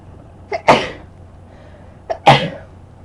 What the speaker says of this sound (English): And I had to sneeze.